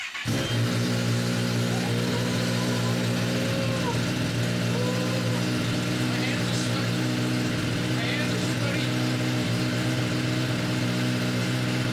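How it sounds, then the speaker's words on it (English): A 2023 Kawasaki ZX-10R sport motorcycle with an Akrapovic titanium slip-on exhaust idles and revs steadily up close, a loud, throaty exhaust drone with rising and falling pitch, and faint speech mixed in. "now it's actually time to start the bike and listen to it"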